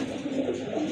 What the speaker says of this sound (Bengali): মাশাল্লাহ আরেক জোড়া কবুতর দেখেন